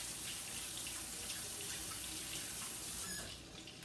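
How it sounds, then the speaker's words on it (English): Water runs steadily from a kitchen faucet as hands are washed, a close, continuous hissing splash that eases off slightly in the last moment. "let me wash my hands."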